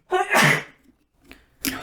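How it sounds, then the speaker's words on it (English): A sharp sneeze bursts out, followed by a couple of faint breaths and then a second short, sneeze-like burst near the end. "That's the second time I sneezed around these pumpkins."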